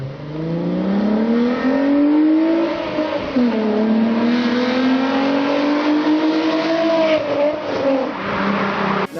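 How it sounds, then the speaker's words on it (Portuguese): Volkswagen Golf third generation with the VR6 engine revs hard, a loud, continuous climbing howl that dips and rises again through the gears, with no voices over it. "a terceira geração do Golf trouxe consigo uma nova versão, que iria alavancar ainda mais o status da versão GTI, o motor VR6"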